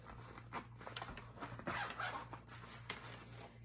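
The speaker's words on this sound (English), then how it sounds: "It's got double closure zipper. Works very well." Double-closure zipper on a compact travel cable organizer bag being pulled open, a continuous close rasping run with a few brief pauses and catches, heard alone.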